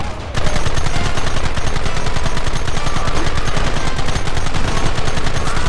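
A loud, dense burst of rapid gunfire fills a Red Dead Redemption shootout, shots rattling in a near-continuous stream after a brief quiet opening, with no talk over it.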